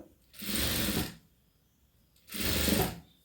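A sewing machine stitches cloth for a dotted and cross-stitch strip in two close, loud bursts of rapid whirring, separated by a quiet pause.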